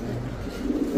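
A light-coloured male pigeon with feathered feet gives a single soft, low coo, close by and fairly faint, during a pigeon sale.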